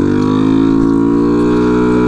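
A Honda Ruckus scooter engine running with a new intake and no exhaust fitted, a loud, close, steady idle with a strong buzzing hum and no talk.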